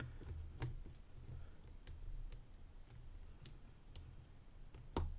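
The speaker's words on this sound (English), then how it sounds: "Can you hear that click?" Combination wheel of a Yale 150/40 padlock being turned, giving faint scattered sharp clicks and ticks over a quiet background.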